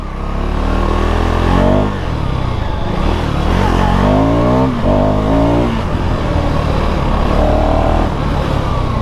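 A KTM Duke motorcycle with a 350cc engine accelerating hard in first gear, loud and close, its engine note repeatedly climbing in pitch as it revs up.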